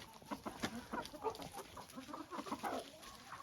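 Chickens cluck continuously in a busy, irregular chatter, with a slightly ill rooster recovering from a comb injury mixed in, close by over a low outdoor murmur.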